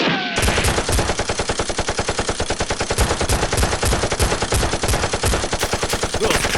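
Rapid bursts of gunfire crackle through a staged Nerf gun fight film, a dense, loud, continuous volley of repeated shots with no talking over it.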